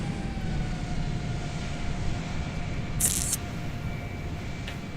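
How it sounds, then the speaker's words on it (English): A Boeing 777 taking off at Johannesburg in a flight simulator game, a steady low engine roar with a faint whine that holds evenly throughout, plus a brief hiss partway through. "Beautiful takeoff."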